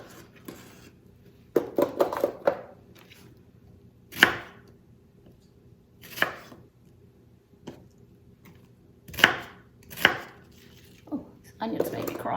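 Knife chopping onions on a cutting board during batch cooking of chicken verde, heard as irregular, close, crisp thuds in short bursts with pauses between, fairly faint against a quiet kitchen background.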